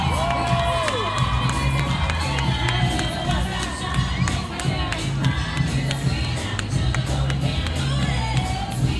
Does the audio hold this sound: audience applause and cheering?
yes